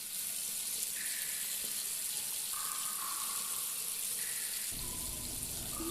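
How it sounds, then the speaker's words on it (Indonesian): Water streams steadily from a tap into a sink, a continuous close hiss with a slight change in tone near the end. "keran air yang di sampingnya tiba-tiba terbuka"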